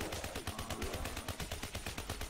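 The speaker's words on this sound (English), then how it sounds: "Shooting zombies for days." Rapid automatic gunfire while shooting zombies in Black Ops 3 custom Zombies on the Kame House map, a steady burst of shots filling the whole moment with no talk over it.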